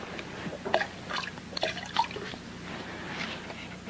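Water pouring out of a bottle in quiet, sparse drips and short trickling splashes, faint and close, with no voices.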